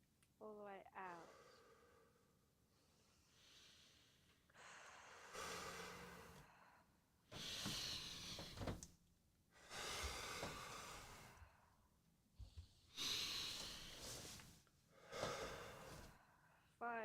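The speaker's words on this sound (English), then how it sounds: "Breathing all the way up. All the way out." Slow, deep breaths in and out during a guided breathing exercise, each long airy inhale and exhale lasting a couple of seconds in a steady rhythm, close and fairly loud with brief pauses between.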